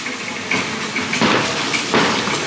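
Ground fountains at EPCOT's Journey of Water spray and splash in bursts, a hissing wash with a couple of louder surges, heard close with no talk.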